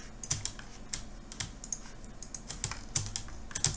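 A computer keyboard and mouse are used while working in Illustrator, with irregular clusters of crisp key taps and clicks, close by and moderately loud, with no voice.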